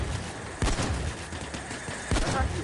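Rapid automatic gunfire in the shooter video game Payday 2, including an AK-5 rifle: dense overlapping bursts with two sharp, louder volleys standing out against continuous background shooting.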